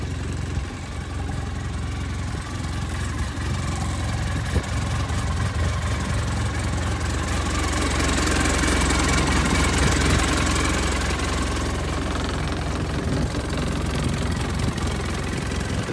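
A Polaris Ranger 800 EFI four-wheel-drive side-by-side idles steadily and close by, a continuous low engine rumble with no talk over it.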